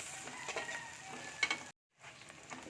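Onions sautéing in a pan give off a soft, steady sizzle with faint crackles, quiet and close, broken by a brief silent gap before the frying resumes.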